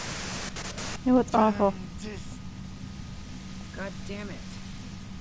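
Broadband radio static hiss runs steadily throughout in the video game Disco Elysium, a constant noisy wash beneath a short, loud burst of speech and quieter voices.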